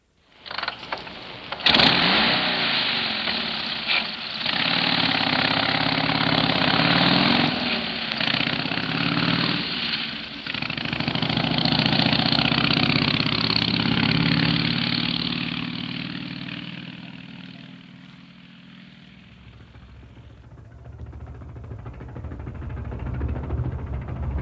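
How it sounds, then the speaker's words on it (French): A motorcycle engine runs steadily as a continuous loud rumble, dips in level around the middle, then settles into a lower idle near the end; no talking. "Olivier, nous prenons aussi ta moto"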